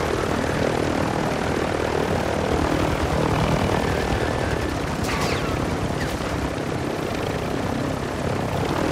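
A helicopter in a Call of Duty battle royale match, a steady dense rotor and engine drone held close and loud throughout, with a brief burst of distant gunfire near the middle.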